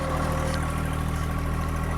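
A John Deere 1025r compact tractor's engine runs at a steady idle, giving a continuous close droning hum with no break in its level and no voices.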